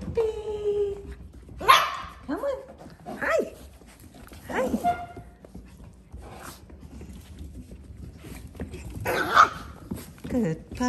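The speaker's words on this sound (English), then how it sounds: "Puppies. Good puppies." Doodle puppies bark, yip and whimper in a series of sharp, close outbursts spread across the stretch, with quiet gaps between and faint background noise.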